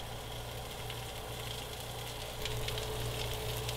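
A hot pan sizzles steadily while marsala cooks, a continuous close frying hiss over a low mechanical hum, growing slightly louder near the end.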